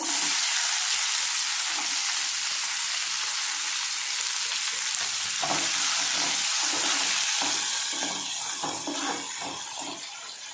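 Onion and green chilli fry in a pan of hot oil, giving a loud, steady sizzling hiss close by, with the scrape of stirring throughout and the sizzle fading a little at the end.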